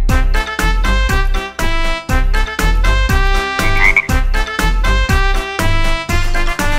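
Croaking frog sounds set to a nursery rhyme tune in a children's song, with steady rhythmic croaks pulsing along with the music. No one speaks.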